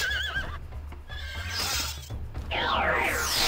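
A unicorn in the video game Heroes of Might and Magic 2 gives a loud, wavering whinny, followed by a short burst of swooping magical effects.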